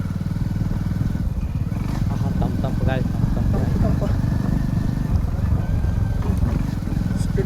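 A motorbike engine drones steadily while riding through the Chorla forest, close and continuous, with people talking over it.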